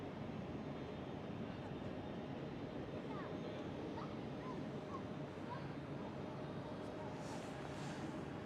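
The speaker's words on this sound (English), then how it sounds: "I think this Iceland Air is waiting for the KLM Cityhopper E195E2, this one, to pass by and then pushing back." A KLM Cityhopper Embraer E195-E2 passes by at Amsterdam Schiphol airport, a steady, faint broadband jet roar that holds evenly throughout with some wind noise on the microphone.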